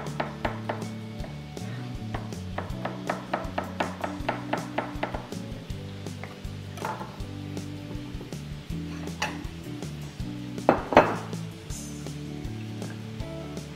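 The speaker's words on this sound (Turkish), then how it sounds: "Kabaklarımızın uzunlamasına doğradıktan sonra jülyen şeklinde" A knife chops zucchini into julienne strips on a cutting board, a fast run of close, even taps that slows into scattered knocks, with a couple of louder thuds near the end.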